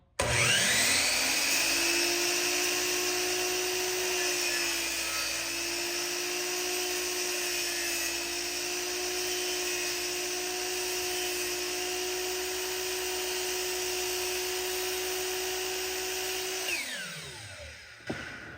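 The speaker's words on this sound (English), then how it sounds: "once your depth set is in there, you just plunge down" A chop saw spins up and plunge-cuts a dado into wooden trim, a loud steady high whine holding for about sixteen seconds before the motor winds down and the blade slows to a stop.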